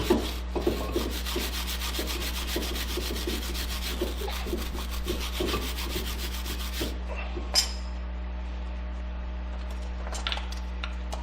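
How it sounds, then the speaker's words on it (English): A wire brush scrubs corrosion off the back of a brake caliper bracket with rapid, steady scratching strokes up close, over a constant low hum, easing into scattered lighter scrapes and taps. "if there is any corrosion, you want to clean it with a wire brush on the back side of the ears here"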